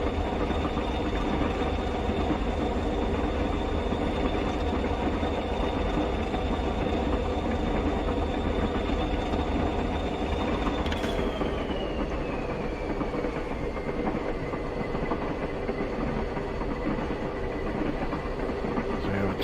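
A Class 378 electric train rolls past continuously in Train Simulator Classic, a steady loud rumble and rail clatter with a high whine that drops in pitch midway as it goes by.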